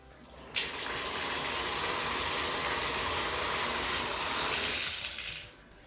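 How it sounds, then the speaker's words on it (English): Tap water gushes out in a loud, steady stream after a smart leak detector valve reopens, beginning abruptly and then tapering off near the end. "That took about 15 seconds for the water to shut off. Now I'm going to turn it back on inside the app."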